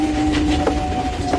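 A train running on its rails, heard from inside a carriage as a loud steady rumble with a sustained mechanical hum and a few faint rhythmic clacks.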